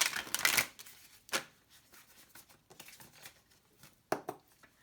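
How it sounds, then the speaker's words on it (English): Close-up rustle and flutter of tarot cards being shuffled in quick bursts, with brief pauses between handfuls. "I'm hearing I should shuffle a little bit more."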